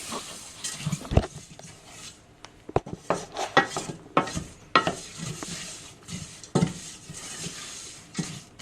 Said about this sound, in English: so we're just mixing that all up, like that